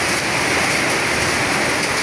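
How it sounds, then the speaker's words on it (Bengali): Heavy storm rain pours down in Dhaka, a loud, unbroken hiss and patter of dense rainfall with no voices. "এই ঝড় বৃষ্টি হচ্ছে"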